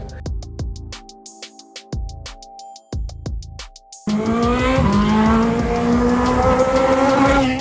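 A brand new race car on a test track, first several short sharp bursts of engine revving separated by brief gaps, then a sustained loud, close high-revving engine note that shifts pitch as it accelerates.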